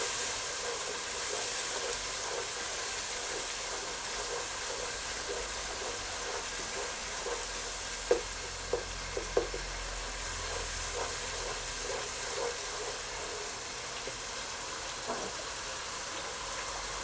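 Dal chana mixed with garam masala frying in a pan, dhaba style, a steady broadband hiss of oil with a few soft clinks and stirring knocks scattered through the middle, continuous and fairly even throughout.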